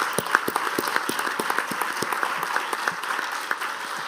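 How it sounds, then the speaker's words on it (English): A conference audience applauds the panelists of a women leaders forum, a moderately loud wash of clapping with distinct individual claps standing out near the front. "I just wanted to ask you all for a big round of applause for these and all our fantastic"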